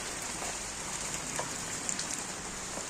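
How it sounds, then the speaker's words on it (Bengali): Steady, soft rain patters on a surface, with scattered drops landing nearby throughout. "এই যে বৃষ্টির মধ্যে রান্না করবে"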